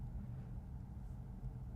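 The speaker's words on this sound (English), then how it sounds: "Do you hear the thunder outside?" Deep, steady thunder rumbles outdoors during a quiet Go game, a low continuous roll with no clear crack, distant and muffled throughout.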